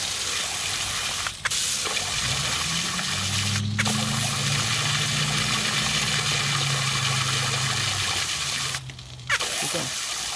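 Water blasts full bore into a hole during pin and bushing removal on a Takeuchi TL240 with a homemade bushing press, a continuous rushing gush over an idling engine hum, with brief interruptions.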